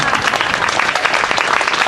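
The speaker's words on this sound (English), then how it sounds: "Let's give another round of applause for my wife" Dense, steady applause from a crowd at Cleveland's 2019 One World Day official ceremony, loud and continuous throughout with no pauses.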